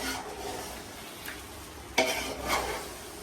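Cashew paste being stirred into a cooking pot, soft sizzling under a couple of distinct utensil scrapes against the pot, fairly quiet and without talk.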